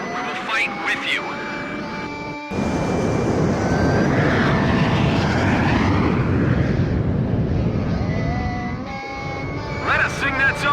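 Fighter jets in the Ace Combat 5 video game roar past with a loud, sustained engine rush that swells and fades. Radio voices and music play over the engine sound.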